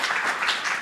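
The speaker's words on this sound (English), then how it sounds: "give yourselves all a round of applause" Brief burst of audience applause at a working-group discussion session, a steady wash of clapping hands held at an even level for under a second.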